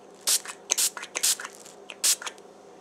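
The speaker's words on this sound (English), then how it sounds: "I'm going to spritz this and they will just like disappear completely" Short spritzes from a spray bottle misting onto soap bubbles, several quick hissing bursts in an uneven rhythm, close and fairly loud with soft background noise between them.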